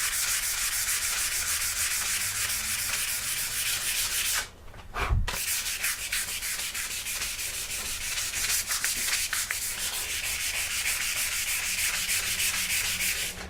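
Brass being sanded on a hard flat surface, a continuous loud abrasive rasp of back-and-forth strokes, close up, with one brief pause partway through and no talking.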